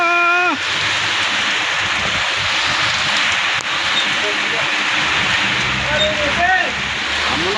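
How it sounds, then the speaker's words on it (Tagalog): Steady loud downpour roars throughout, a dense hiss of heavy rain with faint whistling tones drifting over it. "Malagas na yung ulan."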